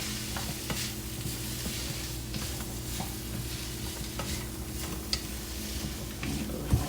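Oxtails sautéing in a pan over medium heat give a steady, soft sizzle with occasional stirring scrapes and light clicks, continuous and without voices.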